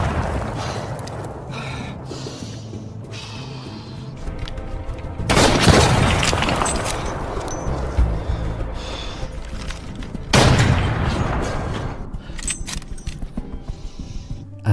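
Sniper gunfire is traded in a war movie, with two loud, sharp bursts of shots and impact noise standing out against a quieter tense background with scattered clinks.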